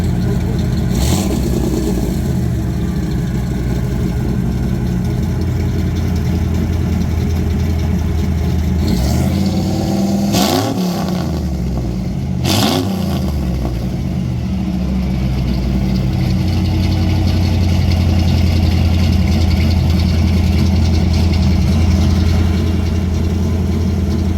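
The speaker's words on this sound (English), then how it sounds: "Does that have some sort of chambered mufflers on it? I think they're considered a Flowmaster 10" An off-road rig's engine runs through chambered Flowmaster mufflers at a spring swap meet, idling with a deep, loud, steady rumble and a couple of brief revs midway, recorded up close.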